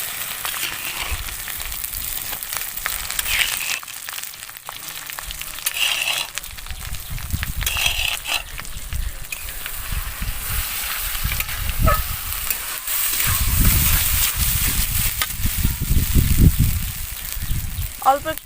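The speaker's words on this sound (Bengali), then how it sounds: "রসুন আর কাঁচা লঙ্কা আমি ভালোভাবে ভেজে নিয়েছি। এরপরে মান কচু বাটা দিয়ে দেব।" Taro paste fries in a pan with fried garlic and green chili paste, giving a soft continuous sizzle and low stirring rumbles while someone talks over it.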